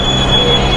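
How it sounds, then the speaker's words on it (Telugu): A Delhi Metro train pulls into a station with a steady loud rumble and a thin high-pitched wheel squeal running throughout the brief moment. "మెట్రో కూడా వచ్చేసింది."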